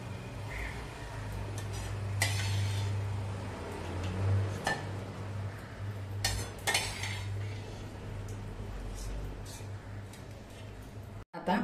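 Cooked bottle gourd being drained and added to curd in a home kitchen, with steady clinks and scrapes of a metal spoon against vessels over a low background hum, near and moderately loud, without speech.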